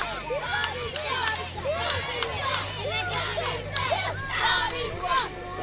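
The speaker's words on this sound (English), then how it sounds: "Bobby sucks is the chant here from this crowd." A wrestling crowd at an indoor show chanting "Bobby sucks" in rhythmic shouts, a dense mass of voices with a commentator talking over it.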